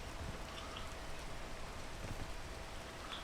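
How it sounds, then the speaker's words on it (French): In-game rain falls as a steady, even hiss of dense drops that stays soft and unbroken throughout, with no voices. "Oh non, il pleut."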